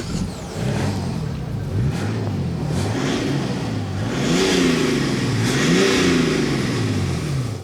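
A 2021 Mercedes GLE 400d Coupe's six-cylinder diesel engine revs repeatedly, its pitch climbing and falling in several swells, growing louder and heavier toward the end, with no talking.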